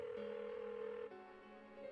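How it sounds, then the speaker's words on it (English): Unanswered phone ringing in Persona 4: steady repeating ring tones at close range, a brief pause midway before the ringing continues, with no one talking. "Why won't she pick up the phone?"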